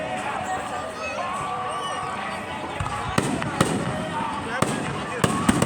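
Fireworks burst at a show in St. Greg's, several sharp, loud bangs popping in quick succession over a constant crowd babble and nearby talking.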